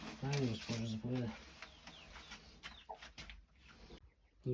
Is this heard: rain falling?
no